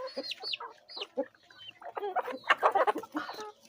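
A hen that has lost a leg clucks close by in a quick series of short, choppy calls, growing busier and louder toward the end.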